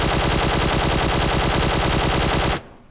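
A QBZ assault rifle in PUBG Mobile fires a loud continuous burst of rapid shots with a flash hider fitted, steady for over two seconds before cutting off abruptly.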